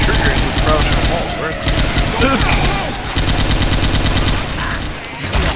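Sustained automatic gunfire from a held trigger in Left 4 Dead 2, a loud continuous rattle of shots that runs through most of the moment and drops off briefly near the end.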